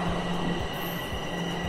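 A Toronto subway train pulls into a station on the line toward Sheppard-Yonge, with a loud continuous rumble of rolling cars and a thin metallic wheel squeal riding over it.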